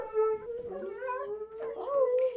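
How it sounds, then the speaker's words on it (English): Dogs howl together in long, wavering, rising and falling tones that overlap, with a few whimpering yips mixed in. The sound is close and fairly loud throughout. "it is time to bring in the dogs."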